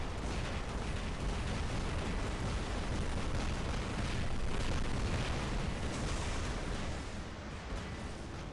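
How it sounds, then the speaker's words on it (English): Aphid missiles firing and exploding in the mech combat video game War Robots: a dense, continuous roar of overlapping blasts and booms that stays loud and steady throughout, easing slightly near the end. "I will fire all of my aphids on them"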